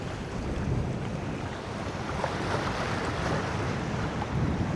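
Rough sea and strong wind buffet a small fishing boat, a loud, continuous roar of waves and wind noise pressing on the microphone with no voices.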